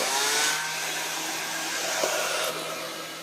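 Air-cushion hockey puck with downward-blowing fans, riding on a cushion of air over the floor, gives a steady loud whirring blow with a low hum, constant throughout without pause.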